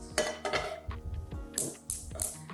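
A non-stick frying pan is handled in a kitchen, making a series of close metallic clanks and clinks with short scraping knocks, irregular and fairly loud.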